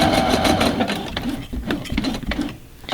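Sewing machine stitching the side seam of a Victorian boot stocking, running in short bursts with brief pauses as the fabric is pivoted, close and fairly loud throughout.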